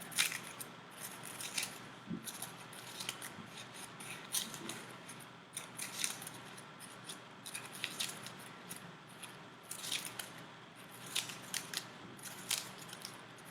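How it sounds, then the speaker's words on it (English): Scissors snip repeatedly through a thin paper cupcake holder in quick, uneven bursts of soft crisp cuts, faint and close, with no voices. "we're going to use the same technique of cutting the cupcake holder that we did before on the petals"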